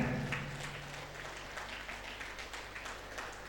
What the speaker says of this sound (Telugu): ఇంకొకసారి గట్టిగా క్లాప్స్ కొట్టుకుందాం, ఇంకొంచెం గట్టిగా.